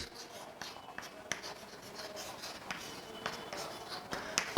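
Chalk or marker strokes on a board in a chemistry class, faint and close, come as irregular scratchy taps and rubs without any talk.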